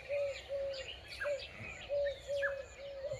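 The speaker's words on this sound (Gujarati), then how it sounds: "પક્ષી બોલી રહ્યા છે।" Birds calling in the morning near a mango orchard on a farm, repeated clear coos and chirps from fairly close, spaced in a steady rhythm over quiet outdoor ambience.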